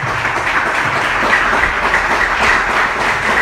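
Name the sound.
congregation applauding in church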